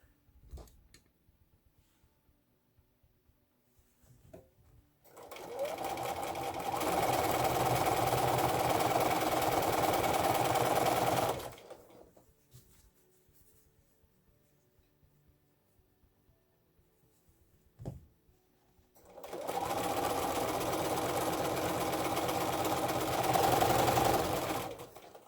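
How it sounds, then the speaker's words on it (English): A sewing machine joins quilt block patches in two sustained runs of even, close whirring stitches, separated by a quiet pause with small handling noises. "So okay, quickly sew those together."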